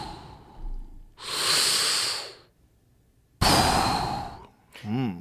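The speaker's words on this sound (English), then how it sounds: "That's breathing with diaphragmatic breathing." Slow, deliberate diaphragmatic breaths shown as a demonstration, two long hissing exhalations separated by a pause, close and fairly loud, followed by a short voiced sound.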